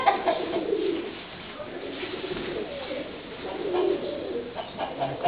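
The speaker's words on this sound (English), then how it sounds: "Got our doves down here, and they're all puffed up for the cold this morning." Doves puffed up against morning cold coo softly in a low, repeated murmur, a few near calls rising over steady outdoor background noise at a farmyard where moonshine is being made.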